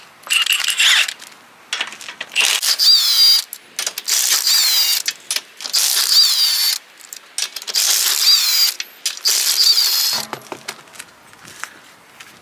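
Ratchet wrench loosening bolts on the bumper of a Nissan 350Z during a body kit install, sounding as several bursts of rapid clicking separated by short pauses, close and fairly loud with no talking.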